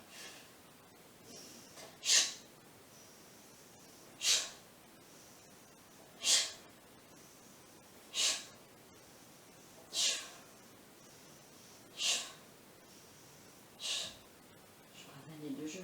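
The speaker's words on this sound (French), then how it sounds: "J'inspire, j'expire." Slow, deliberate breaths come about every two seconds, each a close, airy whoosh like an exhale through the nose, repeated seven or eight times in a steady rhythm during a quiet floor exercise routine.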